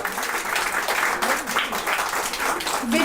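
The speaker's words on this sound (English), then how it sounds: "Please give a huge round of applause." An audience at a book launch applauds steadily, a dense wash of clapping with a voice faintly audible over it toward the end.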